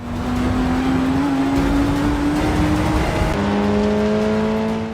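Steady, loud engine drone from Forza Motorsport 6 race cars revving and accelerating, rising and shifting tones, a gear-like pitch change midway, no voices.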